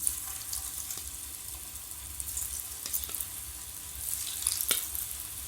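Baby potatoes coated in masala sizzle gently in hot oil, a soft, continuous fry with a few faint clicks of a utensil, fairly quiet throughout.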